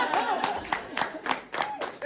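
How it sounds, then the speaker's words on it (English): Scattered audience clapping at a stand-up comedy show, a few separate sharp claps from a small crowd with some murmuring, fairly close and moderately loud. "could be an applause break, sure"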